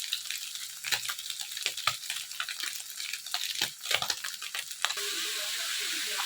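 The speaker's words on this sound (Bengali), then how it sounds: "মাছগুলো ভেজে নিই।" Small fish sizzle and crackle in hot oil in a pan for a Bengali chachchari, a steady frying hiss with occasional stirring clatters, close and fairly quiet, no talk.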